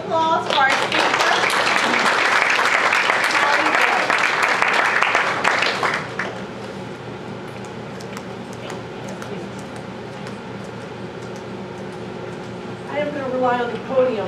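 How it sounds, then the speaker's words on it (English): A banquet audience applauds a speaker with dense, loud clapping for about six seconds, then it stops abruptly, leaving a quiet room hum with a few scattered taps before a voice begins speaking. "can you just give a round of applause for our speaker?"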